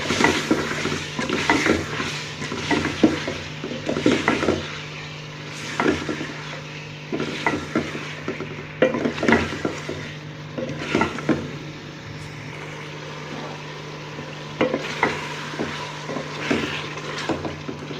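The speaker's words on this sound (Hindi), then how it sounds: "अब हम इसको 2 से 3 मिनट तक भून लेंगे अच्छी तरह।" Ground chili, turmeric and tomatoes fry in a pan with a steady low sizzle, and a spoon scrapes and stirs in repeated close strokes throughout, with no talking.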